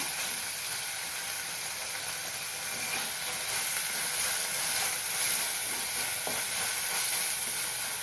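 Chopped tomato with onion and green chilli sautéing in a pan, a soft steady hiss and sizzle with faint scraping stirs, fairly quiet and without voices.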